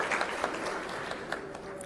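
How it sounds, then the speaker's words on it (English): An audience applauds at an India-Europe business roundtable in Visakhapatnam. The steady clapping sounds fairly faint and distant, with a few sharper claps standing out from the even wash of applause. "A big round of applause and thank you for making all the way from Armenia."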